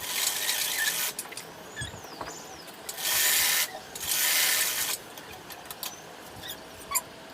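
A sewing machine stitches the fitting seam of a summer top in two short, steady whirring runs close by, framed by clicks and mechanical ratcheting as the fabric is handled.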